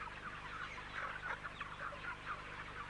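Chickens in an industrial broiler chicken farm cluck in a dense, continuous chorus, a steady mass of overlapping calls with no single bird standing out and no voices.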